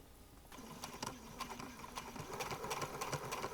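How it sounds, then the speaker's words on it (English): A sewing machine stitches in the ditch on a self-binding baby blanket, a steady close mechanical whir with rapid needle clatter that grows slightly louder, with no talking. "here I am stitching in the ditch"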